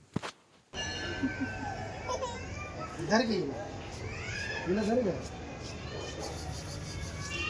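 Two drawn-out cat meows rise over a steady background hum, with a voice chattering faintly nearby.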